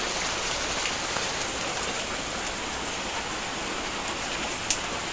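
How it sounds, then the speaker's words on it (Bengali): Steady rain pours down on a morning outdoors, a dense, even hiss of drops hitting surfaces. It continues without a break, with one small louder splash near the end. "এই যে বৃষ্টি পড়ছে"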